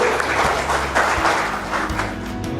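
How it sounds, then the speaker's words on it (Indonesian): An audience claps steadily for Professor Terawan at an immunotherapy service launch event, a dense, sustained round of applause from a crowd with no voices on top. "Kita berikan aplaus untuk beliau"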